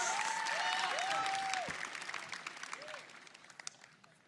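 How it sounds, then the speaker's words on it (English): A graduation crowd's applause tapers off over a few seconds, mixed with whistles and a few cheers, thinning to scattered claps at the end. "Round of applause, please"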